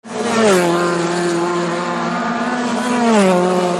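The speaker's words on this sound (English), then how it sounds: "an audio cassette produced in the 80s, about 88, 89, that on one side has sounds from Brands Hatch, racing days at Brands Hatch." Race cars at the Brands Hatch circuit, recorded on a late-1980s audio cassette, roar past in a loud, sustained engine howl that shifts pitch as they pass, one car's note falling away before another surges in.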